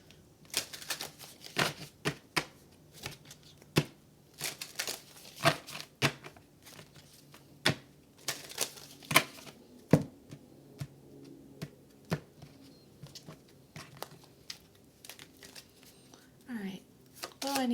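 Romance angel oracle cards being shuffled by hand, a run of crisp card snaps and riffles at close range. They come in irregular bursts over a faint room background, with no talking.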